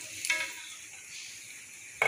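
Soft, steady sizzling of chicken frying in a pan, with a couple of brief louder crackles as pieces hit the hot oil.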